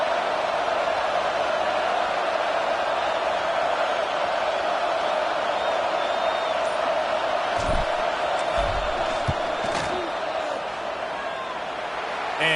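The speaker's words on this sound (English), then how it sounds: "This crowd trying to do its part to get inside the kicker's head." Steady roar of a large football stadium crowd as the field goal unit lines up for a kick near the end of the first half, a dense, continuous wall of noise with a few louder swells.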